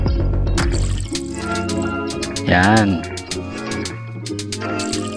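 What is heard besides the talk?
water filling in a mobile game by collecting grass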